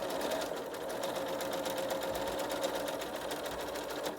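A sewing machine runs steadily at close range while chain piecing a quilt block, a continuous even whirring hum with fast rhythmic stitching and no pauses.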